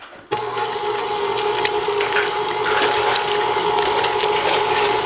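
An electric mixer starts abruptly and runs steadily, whirring through blueberry breakfast bake batter with buttermilk, a continuous close motor drone with faint clinks against the bowl.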